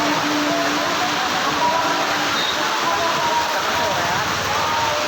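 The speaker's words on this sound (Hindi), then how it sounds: "बहुत ज़्यादा बारिश आ गया।" Heavy rain pours down outside a shop during a downpour, a constant dense hiss that stays loud and unbroken, with people talking faintly underneath.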